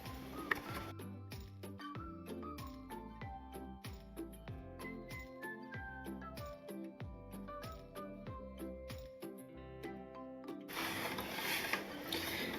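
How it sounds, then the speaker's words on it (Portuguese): A sewing machine running in short bursts as it stitches the side seam of a fabric pouch lining, a close mechanical whir and ticking with stops between runs, fading to a soft hiss at the end. "eu vou costurar toda essa lateral até aqui assim"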